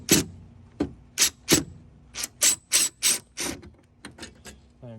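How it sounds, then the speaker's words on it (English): Screws being driven out with a Phillips screwdriver bit on a Jeep JK, a series of sharp bursts of power-driver whir and metallic clicking, close and loud. "You can use either a screwdriver or a bit like I am."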